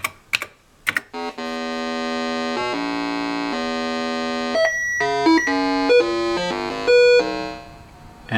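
An Orwell computer test program plays random electronic beeps: a few sharp clicks, then sustained buzzy square-wave tones that jump abruptly between pitches, followed by quicker short bleeps, loud and alone.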